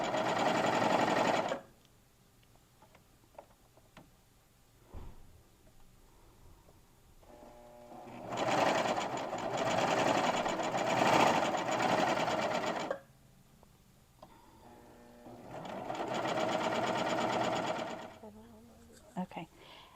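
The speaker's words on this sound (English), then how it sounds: "Our little t-shirt start to finish on the serger and cover stitch machine" A serger and cover stitch machine sew a t-shirt in three separate loud bursts of rapid whirring, with quieter pauses between them where faint handling noises and a sharp knock are heard.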